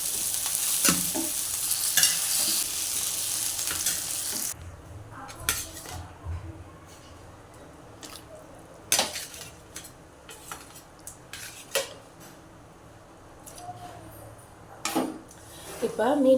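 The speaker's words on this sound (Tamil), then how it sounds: "இப்போ என்ன பண்ண போகிறோம்னா நம்ம மீன் ஆட் பண்ண போகிறோம்." Lake fish goes into a boiling Tamil fish kulambu: a loud hiss opens the clip, then it drops into quieter bubbling broken by repeated sharp clinks and scrapes of a spoon against the pot, with a voice speaking now and then.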